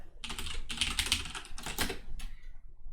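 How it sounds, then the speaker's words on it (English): Fingers typing a password on a computer keyboard, quick bursts of close clicking keystrokes in several short runs with brief pauses, ending in a final tap. "I'm going to type in a secure password."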